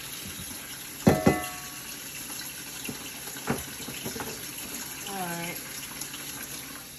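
Cold tap water runs over cooked noodles for seafood mac and cheese, a steady near splash with a few sharp clatters early on, and someone speaks briefly.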